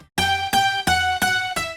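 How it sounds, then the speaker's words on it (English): Bright, dry progressive house synth lead layers play five sharp, evenly spaced chord stabs in a steady rhythm, with no effects and no voices. "So leads without effect sounds like this"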